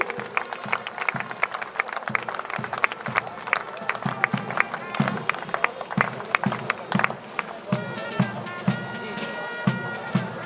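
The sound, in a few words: applause for the Central Railway team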